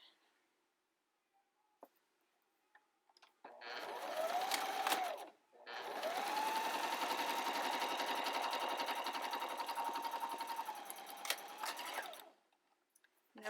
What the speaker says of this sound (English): just grab my lining fabric and go ahead and sew that up